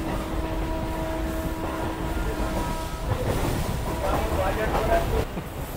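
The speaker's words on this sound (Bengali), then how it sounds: "ট্রেনটা আরামবাগ থেকে ছেড়ে দিয়েছে, এরপরে স্টপেজ হচ্ছে গোঘাট।" A Howrah–Goghat local train pulls out of Arambagh station, its steady rumble rising as the wheels pick up a clattering rhythm, with a faint tonal hum early on and voices in the coach.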